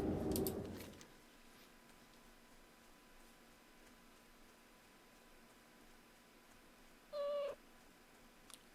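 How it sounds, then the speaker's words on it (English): A pet cat lets out a single short meow, faint and distant, against a quiet room hum after a brief loud burst at the start. "Was that a cat?"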